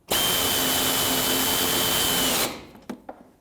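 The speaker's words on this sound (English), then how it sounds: "Line up the bolt, tighten it down." A power tool tightens a bolt on a 2003-2008 Subaru Forester A/C condenser, a loud steady high-pitched whirring run of about two seconds that stops abruptly and is followed by a couple of light clicks.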